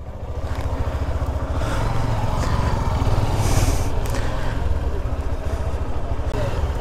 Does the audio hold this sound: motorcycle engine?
yes